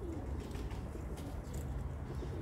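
Street pigeons cooing softly amid a low outdoor rumble, with faint soft calls repeating over a couple of seconds.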